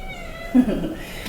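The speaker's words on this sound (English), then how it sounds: "I'm being batted from the back to give some attention to a cat because she gets no attention in this house" A house cat gives a single short meow for attention, close and fairly soft against quiet room tone.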